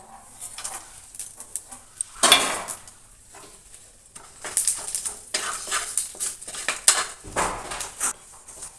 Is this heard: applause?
no